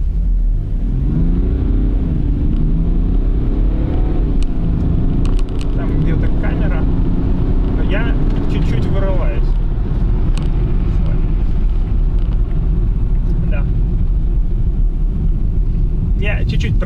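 A BMW 6 GT with a three-litre inline-six diesel and all-wheel drive accelerates hard from a start in snowy conditions, its loud engine drone climbing in pitch for several seconds before settling into a steady roar with wind buffeting.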